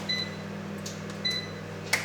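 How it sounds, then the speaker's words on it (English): A steady low hum of a microwave heating chicken, punctuated by a few short electronic beeps and a sharp click near the end. "So chicken in the microwave"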